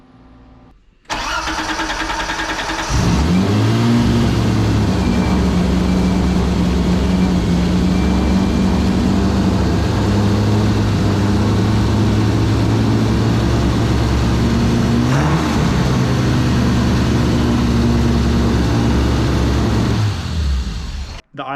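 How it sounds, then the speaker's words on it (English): A BMW E30 engine fitted with individual throttle bodies starts and runs at a high, steady idle without coolant, a loud continuous drone close by with a slight dip and recovery partway through. "The idle sounds much higher than what it should be"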